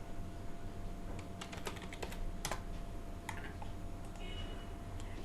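Keys on a computer keyboard tapped in quick irregular bursts while a message is entered, close and fairly clear against a steady hum of room noise, with no one speaking.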